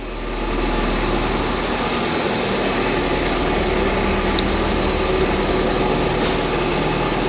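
A Ford Fiesta ST180 engine idles steadily with a constant, even drone and faint high whine, running continuously without revving or voices.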